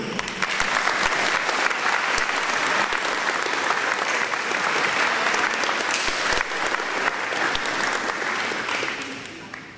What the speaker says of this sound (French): une partie de ces applaudissements peuvent aller aussi aller à leur professeur